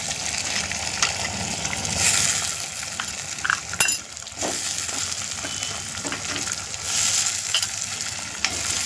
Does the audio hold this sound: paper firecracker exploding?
no